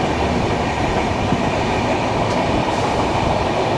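A train rolls past on an Indian line in Uttar Pradesh, with the Varanasi Vande Bharat going by: a loud, continuous rumble of wheels and cars, close and steady throughout, with faint squeals and no voices.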